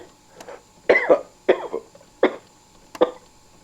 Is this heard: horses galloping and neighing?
no